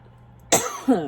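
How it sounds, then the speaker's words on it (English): A single sharp cough close to the mic, a short bursting cough followed almost at once by a second rougher throaty hack, with near silence before. "literally just out of nowhere getting this need to cough, feeling very restrictive in the throat"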